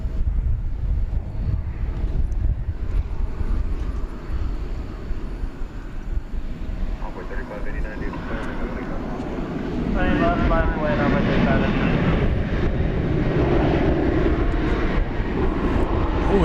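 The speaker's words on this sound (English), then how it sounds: "This is American Flight 1104 off to Boise, Idaho, a 737-800." American Airlines Boeing 737-800 taking off at night at DFW Airport, a loud sustained jet engine roar with wind buffeting on the microphone, swelling and shifting in tone over about sixteen seconds as people talk over it.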